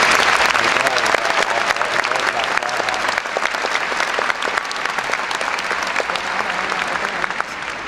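A graduation ceremony audience applauds to welcome and thank guests, with dense, steady clapping that holds at an even level throughout.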